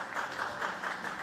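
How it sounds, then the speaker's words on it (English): A short burst of steady applause rises from the audience at a Tokyo Marathon awards ceremony, moderately distant and continuous. "Please give another big round of applause to first, second, and third place winners on the stage."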